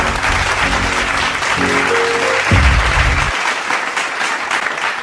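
An audience applauds after a group dance performance at a stage event, sustained clapping from a crowd with loud music fading out beneath it before the clapping continues alone.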